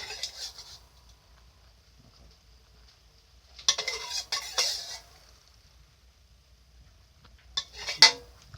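Stir-fried cabbage with pork and fish noodles scooped from a pan onto a plate in a home kitchen, with a few brief clattering scrapes and clinks of utensil against cookware and dish, separated by quiet pauses.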